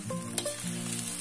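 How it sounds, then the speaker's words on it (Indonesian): Nasi goreng fried rice being stirred in a pan, a steady close sizzle running through with a brief scrape of the utensil partway. "Dalam mengaduk nasi goreng, usahakan ya ini teman-teman, ngaduknya ini agak lama"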